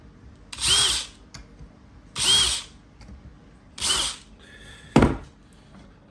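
A power drill drives screws into a mounting while a reverse osmosis water filter system is assembled, four close, loud whirring bursts at even intervals separated by quiet gaps, with a short clunk after the last.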